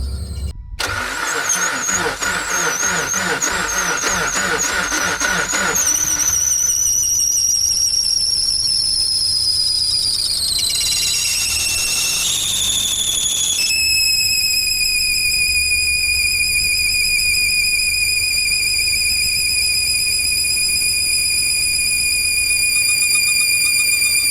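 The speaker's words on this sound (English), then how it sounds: "I had to shut it down because the belt was catching" A supercharged Suzuki Swift ZC31S engine cranks and catches, then a loud, sustained high-pitched belt squeal rises and wavers over the rough-running motor, close up and continuous.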